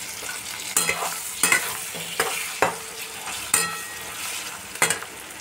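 Spice masala with tomato frying in a pan, loud close sizzling punctuated by regular spatula strokes scraping and tapping the pan every second or so.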